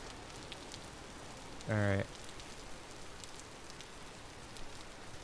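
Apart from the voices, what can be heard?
rain falling in a video game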